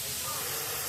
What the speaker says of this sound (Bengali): দুদিকে পেঁয়াজটা ভাজা হচ্ছে বন্ধুরা।